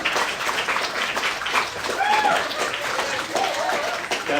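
Audience applause after a poem at a new student poetry reading, a moderate patter of clapping with voices talking over it, steady across the short stretch.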